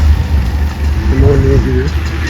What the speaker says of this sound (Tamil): நம்ம வண்டி நிற்கிது.